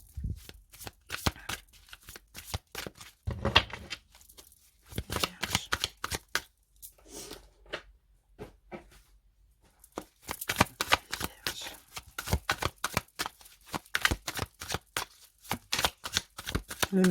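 A tarot deck is cut and shuffled by hand in a quiet room, with rapid papery riffles and flicks coming in bursts, a short pause midway, then steady continuous shuffling, close and fairly soft.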